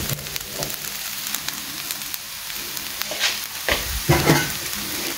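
Maharashtrian kanda batata poha, flattened rice with onion and potato topped with coriander leaves, being stirred in a pan: soft scraping strokes over a light, steady sizzle, close up and with no talking.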